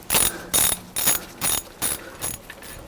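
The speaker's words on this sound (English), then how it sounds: "So I'm going to start taking the manifold bolts off." A ratchet wrench loosens manifold bolts on a MerCruiser marine engine, giving about seven quick, evenly spaced bursts of close, crisp clicking with no talk.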